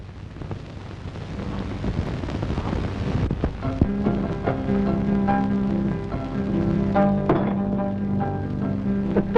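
Steady rain pouring down outdoors, a dense continuous hiss with scattered drops, heard alone and fairly loud while soft music-like tones rise in the background.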